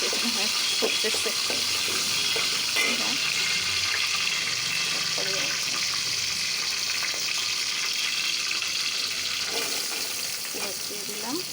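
A kitchen tap runs while cooking is underway, giving a continuous, fairly loud rushing hiss of water with small clatters scattered through it.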